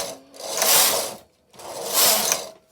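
A Silver Reed punchcard knitting machine carriage is pushed across the needle bed twice, each pass a loud, rising-and-falling mechanical whir and clatter with a brief quiet gap between the two strokes.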